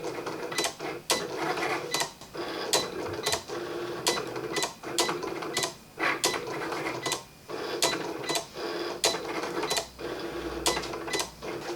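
Cricut cutting machine drawing with an Emboss It pen, a steady mechanical whir broken by regular clicking carriage strokes and brief pauses, close and fairly quiet throughout.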